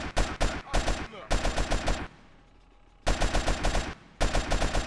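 Rifle fire in GTA San Andreas, with rapid automatic bursts of loud, close shots in several clusters, separated by a quieter pause of about a second.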